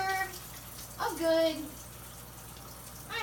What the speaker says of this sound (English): You should wash with hot water and soap for